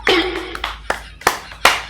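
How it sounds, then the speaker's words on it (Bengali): Children clap their hands in a few separate, sharp bursts, close and fairly loud, with short pauses between each set of claps. "ভালো করে হাততালি দে"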